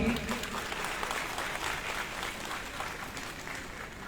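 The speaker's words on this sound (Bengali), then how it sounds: "আমরা একটু করতালি দিয়ে উৎসাহিত করতেই পারি" An audience applauds a scholarship recipient on stage at a Tripura student merit festival: dense, steady clapping from a crowd, fairly loud and sustained, easing slightly toward the end.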